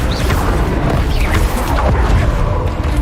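A Bombarda blasting spell from Hogwarts Legacy bursts amid a dense, continuous wash of booming impacts and crashing debris, loud and sustained throughout with no clear pause.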